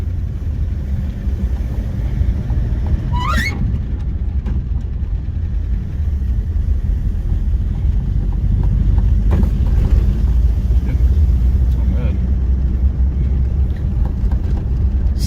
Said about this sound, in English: It's actually pretty quiet sounding, other than the little bit of lifter noise.